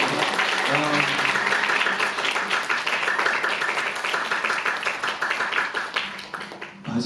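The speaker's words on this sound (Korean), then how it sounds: "여러분 박수 한번 부탁드리겠습니다" An audience at a live talk event claps steadily in a dense, sustained round of applause that gradually thins toward the end, with a voice faintly audible early on.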